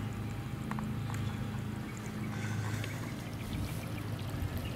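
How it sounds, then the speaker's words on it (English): Water barely trickles from the outlet pipe of a homemade solar pool heater whose pump runs on a 50-watt solar panel, giving a steady, soft wash of flow over a low background hum. "the water just, like I say, just barely trickling out of there"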